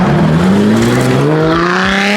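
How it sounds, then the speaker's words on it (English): A Lamborghini Huracan supercar at a car meet revs loud and close, its engine note climbing steadily in pitch over a continuous roar, with no voices. "Here's that crazy looking Huracan that we saw the other day."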